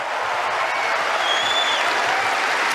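A Wimbledon Centre Court tennis crowd applauds in a steady, dense wash of clapping that fills the whole stretch, broad and sustained without a break.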